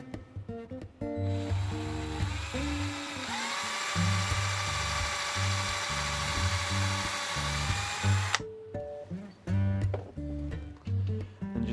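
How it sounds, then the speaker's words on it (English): A high-pitched drill whines steadily for several seconds boring a pilot hole into wood, over low knocking and thumping, then stops abruptly. "just drill a nice little pilot hole in the center"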